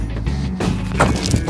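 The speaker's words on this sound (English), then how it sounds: "So let's actually drop that and see what that looks like." A Mitchell Defense rifle dropped from a height onto a rock floor lands with a single sharp clattering impact, close, followed by faint rattling.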